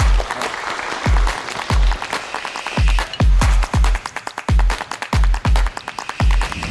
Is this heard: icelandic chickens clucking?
no